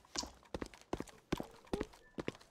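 Player footsteps in the Roblox game Counter Blox, a series of soft, evenly spaced steps in pairs, fairly faint and close, with no talk over them.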